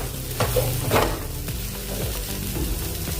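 Soybean roll filling being stirred and fried in a pan over low gas, with a steady soft sizzle and a few scraping strokes of the spatula, close and alone with no voices.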